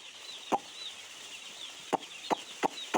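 Chickens cluck softly in the background at a poultry farm brooding area, with a few sharp taps or pecks.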